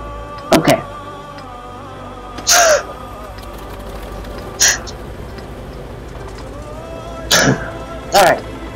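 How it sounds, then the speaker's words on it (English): A person sneezes and clears their throat several times in short separate bursts, each loud and close, with a quiet steady hum between them. "Ah, I'm just gonna sneeze."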